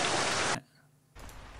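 A downloaded rain sound recording plays as a short burst of loud, dense hissing rain, cuts off abruptly, then returns more softly.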